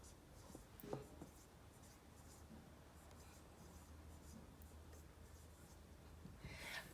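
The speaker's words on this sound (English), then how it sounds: "I'm going to actually go ahead and write that out." A pen scratches out a math equation in a hangar, soft continuous scribbling strokes at low level, close by and with no talk.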